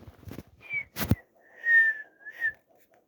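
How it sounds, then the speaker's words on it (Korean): Short whistled notes sound alone, a few clear tones, one held and gently sliding, between a couple of sharp knocks. "휘파람"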